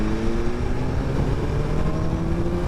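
A 2025 BMW S1000RR sports bike pulls in 4th gear from low revs, its engine drone steady and rising slightly in pitch, loud and close throughout.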